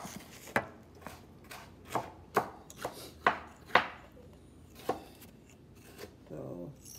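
Knife chopping cabbage on a cutting board, about a dozen sharp, irregular thunks spaced under a second apart, close and fairly quiet, with faint voices in the background.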